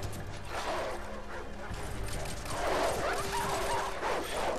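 A puppy in Call of Duty 4: Modern Warfare barks several times, yipping and whimpering at moderate loudness, with faint game noise beneath.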